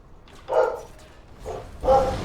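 Three short barks from a dog in a video game, evenly spaced and fairly close, standing alone without speech.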